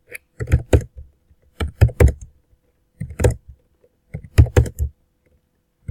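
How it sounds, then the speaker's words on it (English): Close, crisp keyboard typing in short bursts of several keystrokes, separated by brief pauses, with no voices. "Sorry if you can hear the typing in the background."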